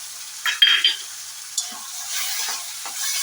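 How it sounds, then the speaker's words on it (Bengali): Spice masala for paneer with ginger paste, green chili paste and ground garam masala, stirred and fried in a pan: close scraping strokes over a soft sizzle, with a few clinks early on and no voices. "মশলাটাকে বেশ সুন্দরভাবে কষিয়ে নেব"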